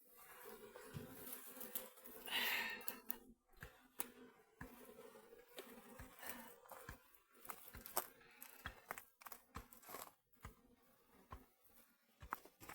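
Honey bees buzz faintly around a hive during a colony transfer, a soft droning hum with scattered clicks and taps, quiet and close, no talking.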